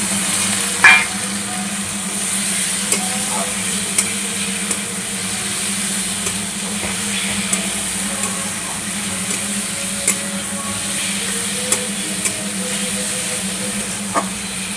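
Pre-fried potatoes go into a hot pan, and a steady sizzling hiss runs throughout with occasional soft clicks and scrapes of stirring, close and fairly loud, with no talk.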